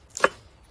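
A knife slices through fresh, topped-and-tailed onions on a board outdoors, one short crisp chopping cut standing out alone against quiet background.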